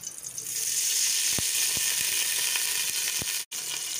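Oil goes into a pan to start chana pulao, a continuous bright hiss with a few sharp ticks, ending in a brief cut of silence near the close.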